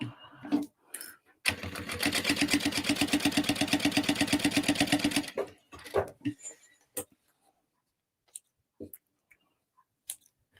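A sewing machine stitches a few inches of a tote bag lining in one steady burst of rapid, even mechanical ticking, with a quiet voice before it and sparse clicks and handling noises after.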